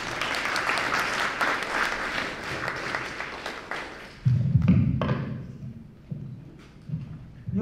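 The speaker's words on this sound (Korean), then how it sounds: "네, 박수 부탁드리겠습니다." Applause from an audience at an honorary doctorate degree ceremony rolls on for several seconds, followed by a brief pause and then heavy close thumps near the microphone.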